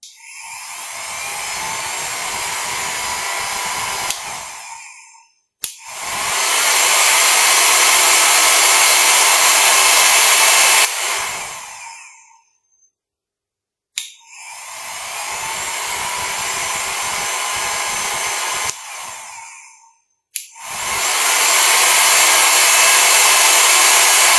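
An X-Sculptor Wild hair and beard dryer blows with a loud, steady whooshing whine, switched on for long stretches with brief silent gaps between runs.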